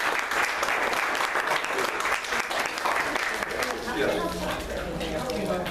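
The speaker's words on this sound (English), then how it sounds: "And give a nice round of applause." An audience gives a round of applause for Mayor Dyer, dense clapping at full strength that eases slightly near the end as voices begin to come through underneath.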